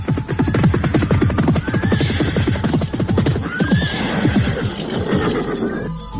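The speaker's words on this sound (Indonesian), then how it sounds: "terdengar derap orang-orang berkuda semakin lama semakin dekat" Several horses approach at a gallop with riders aboard, dense drumming hoofbeats filling the scene while whinnies cut through now and then, loud and close throughout.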